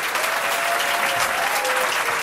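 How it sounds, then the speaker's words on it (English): A crowd applauds at a New York State government event, dense continuous clapping, fairly loud and close, holding steady for a couple of seconds with a faint voice beneath. "Let's give a round of applause."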